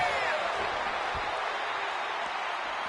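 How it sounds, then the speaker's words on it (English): A crowd at a wrestling match in the video game WWE 2K26 cheers and applauds as a steady, broad roar of noise that holds level and fairly loud throughout. "The crowd is fired up."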